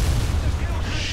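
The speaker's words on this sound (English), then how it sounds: "I just took a direct hit from the left." A tank in War Thunder takes a direct hit from the left: a loud, heavy, rumbling boom with deep low-end roar, close and sustained for about a second.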